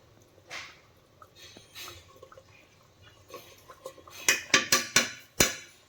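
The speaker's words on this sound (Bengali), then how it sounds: "চামচটা খিচুড়ির মধ্যে একটু লাগিয়ে নিলাম যাতে ঘিটা চলে যায়।" A spoon works ghee into meat khichuri in a pot, soft scraping and dabbing at first, then a quick run of sharp metallic clinks against the pot near the end.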